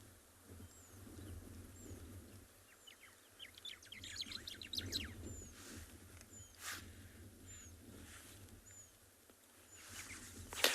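Birds chirp in quick, repeated high tweets, fairly faint, against a quiet outdoor background on an afternoon safari in South Africa, with occasional rustling.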